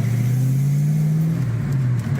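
A car engine pulls steadily and close by, its drone rising slightly in pitch and then easing back, a continuous loud hum with no voices.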